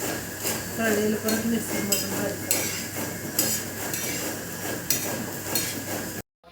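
Turmeric roots stir-fried in oil in a pan give a steady sizzle under repeated scraping and clinking of a spoon against the metal, with someone talking throughout.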